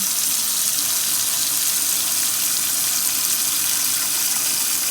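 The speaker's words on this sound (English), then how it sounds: "what you want to do is fill it with enough water to cover everything" Tap water runs steadily into a large stock pot at a kitchen sink, a continuous bright hissing rush at even loudness throughout, with no talking.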